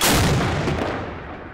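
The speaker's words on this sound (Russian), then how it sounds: "Залп из орудия 50-х годов." A single loud blank shot from a 1950s cannon, the noon gun in Vladivostok, that hits instantly and then rolls away into a fading echo.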